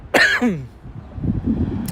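A single harsh cough bursts out close by, followed by a softer rough throat-clearing rumble.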